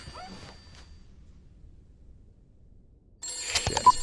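An old-style telephone starts ringing in the horror game The Beast Inside, a bright trilling bell that bursts in near the end after a long hush broken only by faint rustles.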